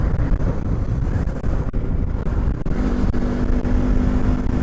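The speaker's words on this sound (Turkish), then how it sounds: "Çok kötü rüzgar var ya." Heavy, constant wind roar buffets the microphone over a low Yamaha R25 motorcycle engine rumble while riding, loud and unbroken throughout with no talking.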